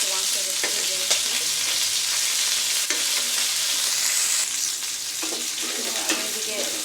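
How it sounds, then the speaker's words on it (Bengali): Meat sizzles and fries steadily in hot oil with cardamom pods and bay leaves, a continuous close crackle broken by occasional scrapes and stirring knocks. "এলাচ দিয়ে দিলাম, তেজপাতাগুলো দিয়ে দিচ্ছি, আর একটু মাংসটা একটু ভেজে নিচ্ছি"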